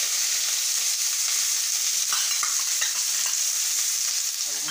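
Chopped onion with cumin seeds sizzles steadily in hot oil for an egg curry, the frying hiss continuous and close, with a few light scrapes and stirs breaking through near the middle.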